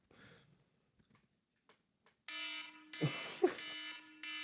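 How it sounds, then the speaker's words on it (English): A 'nuke alarm' sound effect serving as a countdown timer: a few faint ticks, then a loud, sustained buzzing alarm tone that starts partway through and runs to the end, with brief louder bursts. "I got the nuke alarm, so you know it's real."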